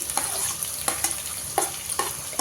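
Long-sliced onions fry in hot oil in a pan with a constant close sizzle, punctuated by several sharp stirring scrapes.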